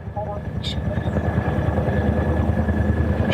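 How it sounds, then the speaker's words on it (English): Helicopter engine drone and rotor rumble overhead, loud and continuous through the whole stretch, with a few brief higher clicks near the start. "Not the time, helicopter!"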